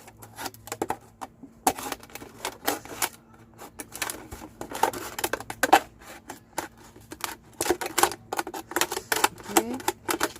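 Scissors cut around a plastic drink bottle being made into a succulent pot, producing a quick, irregular run of close, crisp snipping clicks and crackles of plastic, with no speech.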